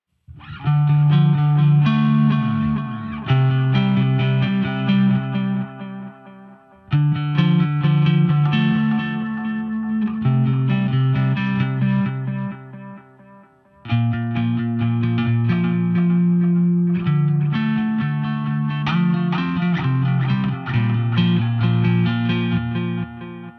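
A sustained bass guitar line through a tape delay effect on a Line 6 HX Stomp, with rich harmonics and a smeared, repeating echo tail, played in three phrases with brief gaps between them.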